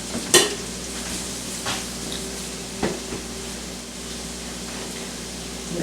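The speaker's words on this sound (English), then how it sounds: "I'll stir them in slowly till it starts to thicken because of the flour" A spoon stirs flour into a sizzling chicken pot pie gravy in a pot, a soft steady hiss broken by a few sharp scrapes and clinks of utensil against pan.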